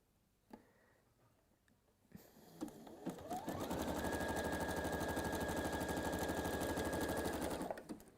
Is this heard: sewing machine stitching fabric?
yes